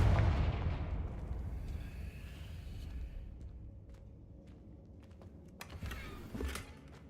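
A Confringo fire spell blasts off in Hogwarts Legacy, opening with a loud, heavy boom that decays into a rumbling crackle, followed a few seconds later by a second, smaller burst.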